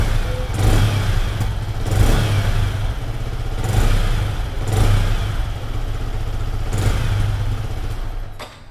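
A 2024 Yamaha R15 V3 motorcycle engine revved repeatedly: about five sharp throttle blips rising from a clattering idle, close and fairly loud, before the engine settles and cuts off.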